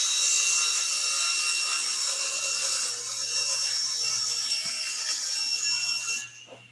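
A table saw rips a wood board with the blade set about a quarter inch above the stock, a loud continuous whining cut for about six seconds that stops abruptly at the end.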